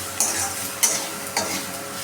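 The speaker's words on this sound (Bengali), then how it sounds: "এবার এই সব কটা দিয়ে আমরা এটাকে ভালো মতো নাড়িয়ে নেব।" Turmeric and vegetables stirred in a sizzling frying pan for a vegetarian mung dal and banana flower dish, with a steady fry hiss and three distinct scraping strokes of a spoon, close up.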